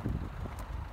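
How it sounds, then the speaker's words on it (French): Storm wind gusts across an outdoor microphone in the Isère countryside during a May thunderstorm with squalls and hail, a loud, rumbling, buffeting roar with no voices. "Ah non, le vent"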